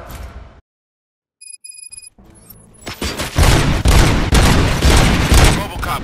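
After a short silence and a few electronic beeps, loud, rapid gunfire erupts and continues in dense bursts, with explosive booms mixed in, from the video game RoboCop: Rogue City.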